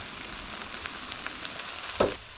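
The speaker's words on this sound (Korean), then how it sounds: "양파의 물기가 딱 졸여질 때까지 볶아주세요" Onions stir-fry in a pan until their moisture cooks down, a steady close sizzle with light scraping stirs and one brief knock near the end, no voices.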